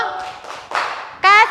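A group of schoolchildren does the "tepuk wow" clap chant in a classroom, with quick bursts of clapping mixed with chanted voices and a sharper, louder shout near the end.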